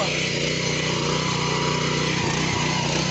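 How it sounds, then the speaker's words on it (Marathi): A 7 HP power tiller engine drones steadily and loudly up close, straining evenly as it pulls a rotavator in the field with a load attached behind. "7 HP मशीन बघा. समोर रोटावेटर खिचत आहे, मागून एवढा मोठा भरही लावत आहे."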